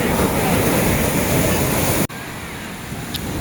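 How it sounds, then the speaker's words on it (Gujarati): Stormy sea waves roar loudly against the shore during a village fair outing, a constant heavy wash with wind buffeting the microphone, broken by one brief cut near the middle. "દરિયો તો બહુ તોફાની થઈ ગયો છે"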